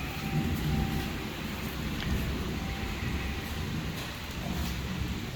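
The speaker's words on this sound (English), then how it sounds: "Yeah, it's a rainy afternoon, chilling in the garage" Steady rain hisses in the background with a low rumble beneath, heard from inside a garage, a constant wash of sound without any voices.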